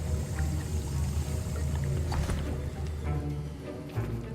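Stirring a brewing potion in Hogwarts Legacy, soft liquid swishing and sloshing with gentle bubbling over a low, steady music drone, moderately quiet and without talk.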